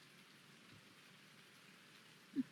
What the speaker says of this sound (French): Il pleut tout le temps.